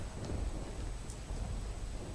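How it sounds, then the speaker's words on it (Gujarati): Steady winter rain falls in Surendranagar district in a continuous soft hiss with a low rumbling underneath, fairly faint and without any voices. "સતત વરસાદના પગલે રસ્તાઓ પરથી પાણી વહેતા થયા છે"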